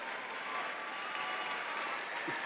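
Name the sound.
graduation ceremony audience applause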